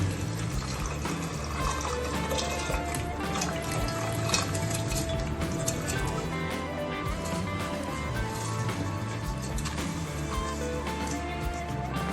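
Soaked rice and toor dal are tipped with their water into a pot for masala khichdi, a continuous close pouring and splashing that runs steadily throughout.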